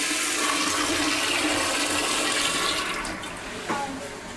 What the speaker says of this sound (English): Hey, who didn't flush?